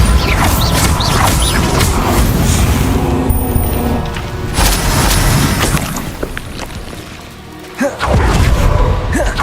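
Bombarda explosion spells go off in Hogwarts Legacy amid dense, continuous battle noise, with loud blasts and mechanical clanks that dip briefly before a sharp boom returns near the end.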